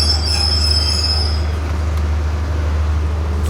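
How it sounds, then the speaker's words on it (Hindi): A passenger train on the cross-border line from Jaynagar, India, pulls into Inarwa station in Nepal with a loud, steady low rumble and a thin high wheel squeal that fades partway through, no voices. "तो ये आ गई है ट्रेन अपने पहले हॉल्ट पे, जिसका नाम है इनरवा।"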